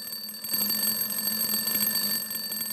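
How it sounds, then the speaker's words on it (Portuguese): An alarm clock rings with a continuous shrill electronic beeping, steady and fairly loud, alone with no talk. "esse despertador toca"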